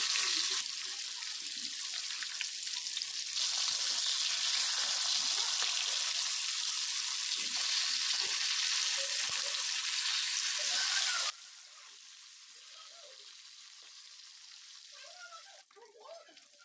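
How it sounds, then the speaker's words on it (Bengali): Fish pieces for Bengali fish kalia, katla or rui, frying in oil, a loud continuous sizzle for most of the clip that then drops to a quieter crackle near the end. "ওই একইভাবে আমি বাকি মাছগুলোকে ভেজে নিচ্ছি।"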